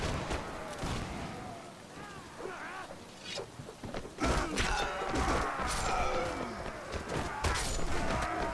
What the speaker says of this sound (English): Ready yourselves! Ready, fire!